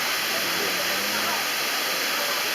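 The Man cascade in Côte d'Ivoire, a waterfall, gives a steady, dense rushing roar of falling water, constant and fairly loud throughout without breaks.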